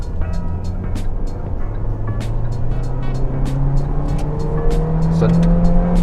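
A Kia Optima K5 sedan accelerates in second gear, its engine note climbing steadily in pitch and growing louder over several seconds, heard from inside the car.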